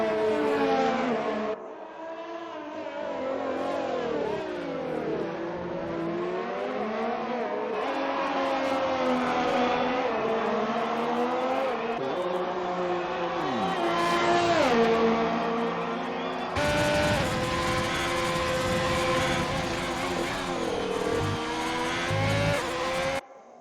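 Race cars in a racing video game heading into the pits, high engines whining and shifting pitch as they pass and slow, continuous and loud, with a sharper burst of noise near the end.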